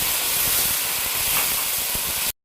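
200 grams of tomato paste hits a hot pan of frying nigella seeds, giving a loud, close, steady steamy hiss that cuts off abruptly.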